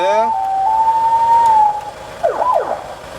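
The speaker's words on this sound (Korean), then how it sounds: "사이렌 이상 없습니다" An ambulance siren wails with a rising and falling tone, then gives a couple of quick yelping sweeps near the end, loud and close, with no talking.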